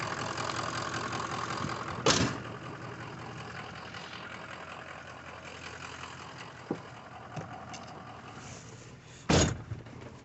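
2003 Ford F250 truck engine idling steadily before a test drive, a low continuous rumble at moderate distance with a couple of sharp clunks and thumps on top.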